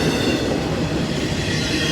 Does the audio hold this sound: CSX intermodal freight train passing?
yes